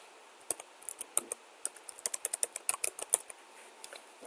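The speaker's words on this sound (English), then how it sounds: "So I'm going to type my password." Fingers typing a password on a computer keyboard, a quick run of about twenty light, sharp key clicks in an uneven rhythm, close up in a quiet room.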